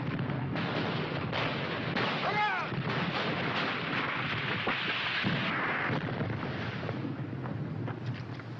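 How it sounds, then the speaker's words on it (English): Artillery fire in a wartime battle setting, with heavy booms and blasts rolling one after another in a dense, continuous barrage at moderate distance. "Where's that Jap artillery?"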